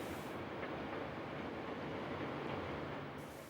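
A steam locomotive and its train roll past on a New Zealand main trunk line, a steady broadband rumble and rush of wheels and carriages close by, with no whistle standing out.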